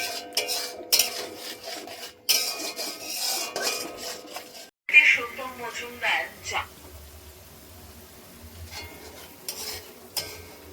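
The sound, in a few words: frying and stirring paneer and cauliflower curry in pan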